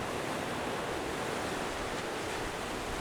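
Sea waves wash over stones on a stormy Madeira coastline, giving a steady, broad rushing roar of surf that stays constant and fairly distant throughout, with no voices.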